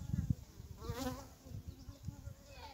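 Honeybees hum at a beehive during winter feeding on sugar syrup and protein patty, a faint, close buzz under low background rumble.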